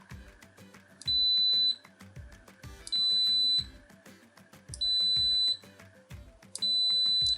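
Multimeter set to manual range beeping during a continuity test, four repeated high electronic tones roughly two seconds apart, each lasting under a second, over faint clicking and handling noise.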